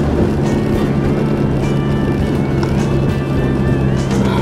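A 4WD vehicle climbing a steep bush track, its engine a loud, steady, close rumble with rough-terrain noise running unbroken throughout.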